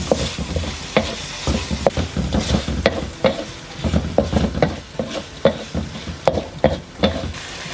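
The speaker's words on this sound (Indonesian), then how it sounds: "Setelah itu masukkan cabai besar, lalu kita tumis sampai dia layu." Steady sizzling from large chilies stir-frying in a pan, punctuated by repeated scraping and clinking as they are stirred, with no talking.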